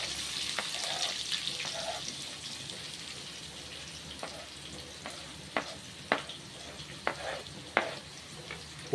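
Chopped onions and green chili sizzling in hot oil in a village-style kitchen, a soft steady fry punctuated by sharp scraping stirs of a spoon against the pan, moderately close.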